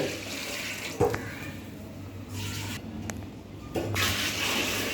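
Water is poured from a vessel into a cooking pot for mutton biryani in three separate splashing pours, close up, over a low background hum.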